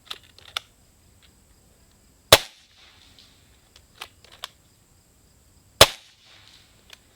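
An unsuppressed air rifle firing twice, each shot a sharp, loud crack several seconds apart, with faint clicks and handling noises in the quiet between shots.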